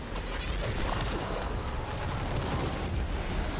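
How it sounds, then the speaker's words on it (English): Chain explosions in the video game Destiny 2 make a dense, continuous roar of blasts and crashing debris, loud and unbroken for a few seconds with no voices. "And then those chain explosions really are going to do wonders over there for me."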